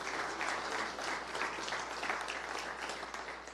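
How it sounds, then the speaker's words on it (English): At an athletics giving-week kickoff, a crowd claps in a dense, even wash of applause that holds a moderate, steady level throughout with no voices on top. "So big round of applause for him."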